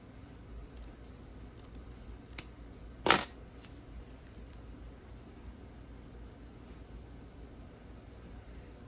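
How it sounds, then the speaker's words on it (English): Scissors make one crisp snip through quilt binding fabric, a short isolated cut against a quiet, hissy room, with a fainter tick just before it. "So I'm going to give it a little more of a trim"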